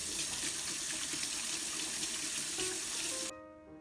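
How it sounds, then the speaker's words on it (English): Tap water runs steadily into a kitchen sink during handwashing after cutting bell pepper, a continuous broadband splashing rush that fills most of the clip before cutting off abruptly near the end. "Make sure to wash your hands after cutting the bell pepper"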